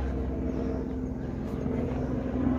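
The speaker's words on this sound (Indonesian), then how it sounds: "Ada helikopter." A helicopter flies over a hiking trail in the hills of Hong Kong, its engine a steady low drone with a sustained hum, moderately loud and continuous through the short stretch, without talk.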